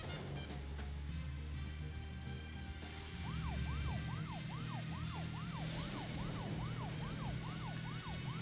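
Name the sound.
siren in a video game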